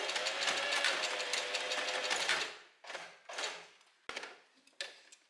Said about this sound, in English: push it right where the needle is of the sewing machine